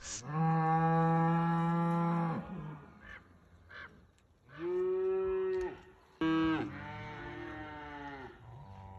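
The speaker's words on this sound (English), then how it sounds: "These cows sound funny." Cows moo loudly and close by, three long drawn-out calls with brief pauses between, the last rising and wavering.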